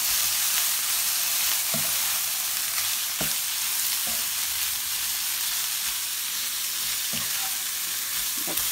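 Pork frying in a pan for pansit, a constant dense sizzle with occasional clicks of stirring, close and steady, with no talking.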